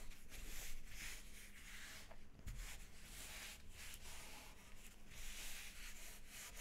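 A vinyl decal is rubbed firmly onto a cup, making quiet, continuous scratchy friction strokes in a repeated back-and-forth rhythm, close up with no talking.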